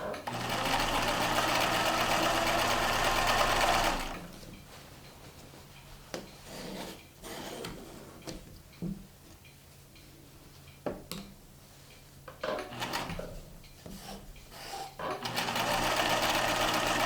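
Bursts of a sewing machine stitching fleece for a quilt-pillow: a loud rapid whirring run at the start, then quiet handling clicks and rustles, then the motor starts again at the end.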